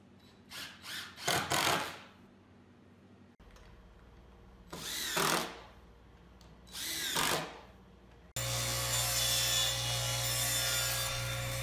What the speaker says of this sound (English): Now I'm cutting out the strips to make the torsion box.